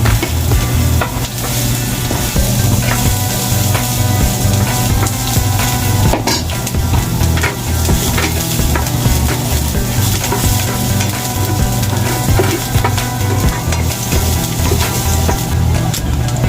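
Chopped garlic sizzles in a pan for a tomato and egg dish, a steady close frying crackle running throughout with repeated scrapes and clinks of a utensil stirring.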